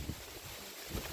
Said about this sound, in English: It's windy as all heck up here